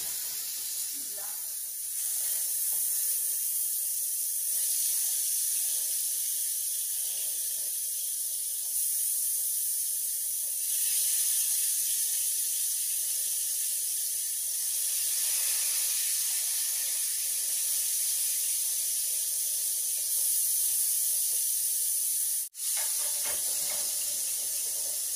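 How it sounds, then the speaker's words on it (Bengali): Fish frying in oil in a home kitchen, a steady broad hiss that runs unbroken and fairly loud for the whole stretch, with a brief dip near the end. "তেল বেশি গরম করার আগে মাছ দিলাম"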